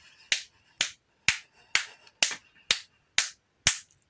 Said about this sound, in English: give me nine claps